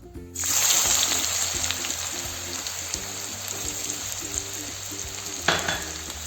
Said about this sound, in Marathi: तर आता यामध्ये आपण सर्वात आधी कांदा घालणार आहोत